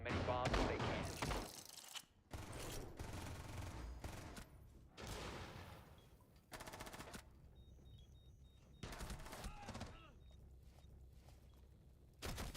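Rapid gunfire bursts in a competitive tactical shooter match on the Basement map, several sharp volleys separated by quieter gaps with scattered mechanical clicks, while a commentator talks over the action.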